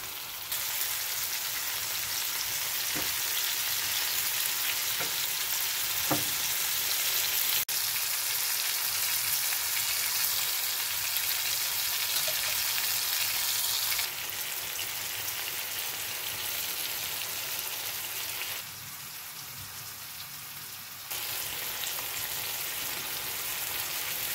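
Taro stolon curry with shrimp, dried fish and raw green mango frying in a pan, giving a steady, dense hiss and crackle that runs unbroken throughout, with a few faint knocks.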